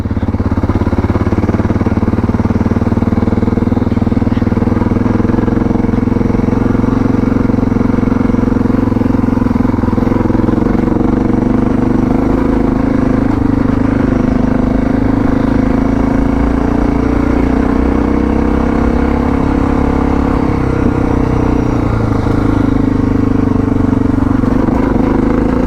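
A Suzuki DR650 dual-sport motorcycle rides a mountain forest dirt road on new suspension, its engine a steady, close, loud drone with rough clatter throughout.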